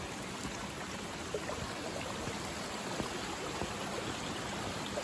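A creek flows steadily above a waterfall at Sam's Point Preserve, giving an even, close rushing wash of water with no break and no voices.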